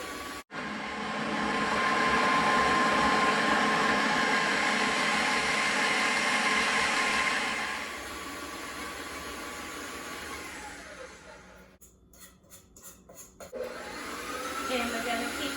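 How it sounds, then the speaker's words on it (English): An electric stand mixer whirs steadily as it mixes strawberry cupcake batter, first at a loud, even hum, then a softer running tone, with some clattering and a brief lull near the end. "So let's go ahead and raise our mixer and we're gonna turn it on."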